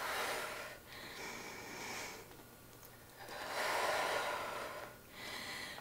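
Heavy, effortful breathing during a no-equipment lower body butt and thigh workout, with long audible exhales and inhales in a steady rhythm, close and fairly soft, with no talking.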